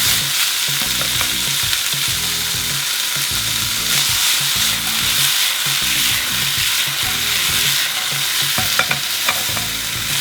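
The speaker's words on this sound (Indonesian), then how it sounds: "Pakai sumpit ini kalian saute." Black pepper beef sautéed in a pan while being turned with chopsticks: a steady, close sizzle and fry with repeated soft clacks and scrapes of stirring, no talking.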